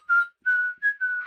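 A person tries to whistle, producing four short, thin whistled notes in a stumbling rhythm, each one brief and wavering, heard close and clear with nothing else around them.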